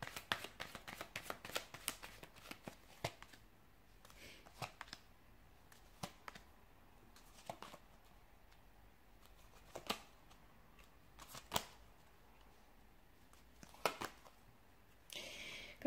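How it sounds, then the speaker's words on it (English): A deck of tarot cards is shuffled by hand up close, giving soft riffling and rapid papery flicks with quiet pauses between bursts, faint and alone. "So we'll give the cards a shuffle and see what the cards predict"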